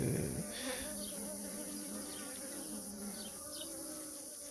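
Honeybees buzz continuously up close at a hive, a dense droning hum with no talking.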